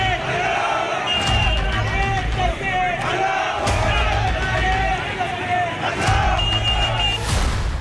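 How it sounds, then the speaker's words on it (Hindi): A large crowd shouts and chants slogans outdoors during an Eid street disturbance, a dense roar of many voices with repeated rising calls, sharp bursts and overlapping cries throughout. "मजहबी नारे क्यों लगे? भाईजान की भीड़ क्यों भड़क उठी?"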